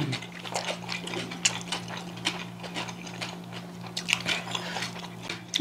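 Crunchy bites of a Korean lotus root side dish, thinly sliced, at a home meal: a close, steady run of crisp chewing snaps and crunches with no talking.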